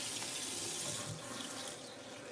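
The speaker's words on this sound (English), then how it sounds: "I don't know if you guys will end up hearing the water in the background as we meditate." Kitchen tap water runs in a steady, close, full rush from start to finish, with no voices over it.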